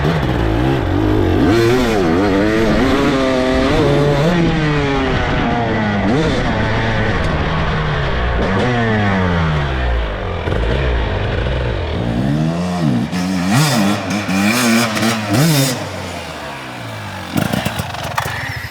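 A motorcycle engine revs loudly and close by, its pitch climbing and dropping in repeated surges throughout, with faint voices briefly near the end.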